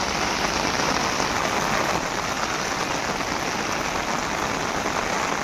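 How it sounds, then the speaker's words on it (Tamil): Heavy rain in Kodaikanal pours down steadily, a dense, loud hiss of drops hitting surfaces without pause or change. "மழை. இப்ப சம வேகமா வருது."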